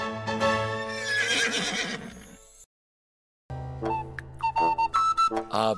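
A horse gives two loud, shrill neighs separated by a brief silence, the second ending in snorting, close and clear.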